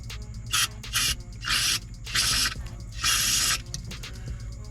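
Several short hissing bursts from an aerosol can of brake cleaner, spraying into a fuel tank during installation in quick irregular pulses over a low mechanical hum nearby.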